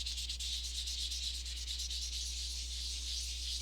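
Steady, close scratchy rubbing as polymer clay Christmas ornaments are sanded by hand, a quiet continuous hiss with faint rhythmic strokes over a low background hum.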